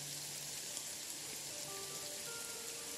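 Light rain in the Jagged Alliance 3 video game, a steady soft hiss of drops falling evenly on surfaces, faint and unbroken throughout with no voices.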